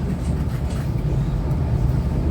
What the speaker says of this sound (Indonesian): saat ini Anda sedang berada di kereta api Turangga Panoramik dengan tujuan akhir stasiun Bandung